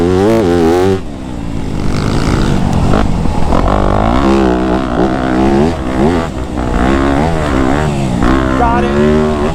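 A Yamaha YZ250F dirt bike rides a motocross track over a series of double jumps, its engine loud and close, revving and surging with each take-off while a rider's voice talks over it.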